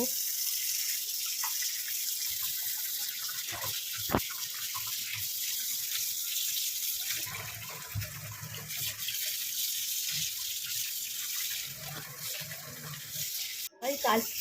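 Meat being washed under running water, a steady gush from a tap splashing into a sink with occasional clunks and a brief knock near the end, while a voice talks faintly in the background.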